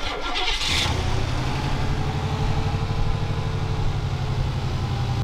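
A hearse engine starts and settles into a steady, loud running rumble nearby, filling the whole stretch without any talk over it.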